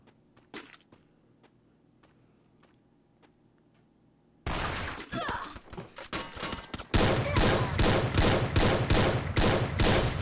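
Bursts of gunfire from the mobile shooter game Free Fire, played on an iPad, starting as scattered shots, then turning into loud, dense sustained volleys that fill the second half without a break.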